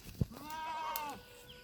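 Goats bleating on a village farm, one long wavering bleat held for about a second after a brief knock, close and clear with no talk.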